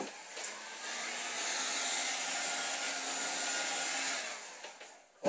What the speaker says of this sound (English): So I have this heat gun.